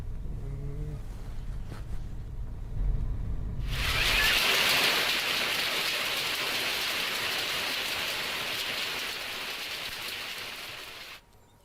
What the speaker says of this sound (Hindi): जिला मुख्यालय समेत आसपास के इलाकों में 2 दिनों से रुक रुक कर तेज बारिश के साथ ओलावृष्टि हो रही है